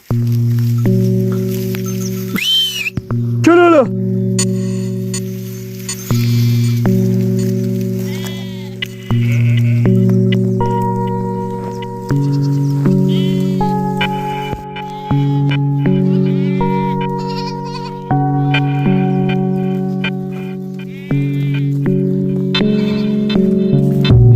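A flock of sheep bleating close by during a spring migration in Iğdır, overlapping calls rising and falling in pitch, one after another with hardly a pause, with no people talking.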